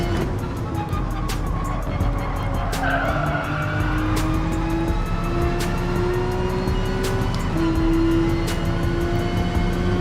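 A turbocharged race car engine roars at Brands Hatch in the GT Sport racing game, its steady rising pitch climbing through gears with tire squeal and skidding at times, loud and continuous throughout.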